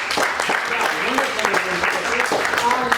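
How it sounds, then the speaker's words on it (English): Students in a classroom clap together during a lesson, a steady patter of hands mixed with voices and chatter throughout. "Clap."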